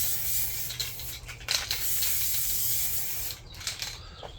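A spray can of primer mists onto a wheel being fitted with whitewall tyre inserts, giving a steady close hiss in several long bursts separated by short pauses.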